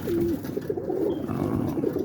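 Pigeon cock bird cooing softly in a loft, a low rolling coo repeated over a steady background of other birds, with no talk.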